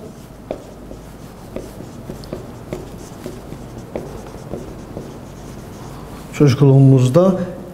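Pen writing a sentence on paper, a series of soft scratchy strokes and taps close by, ending as a person starts speaking.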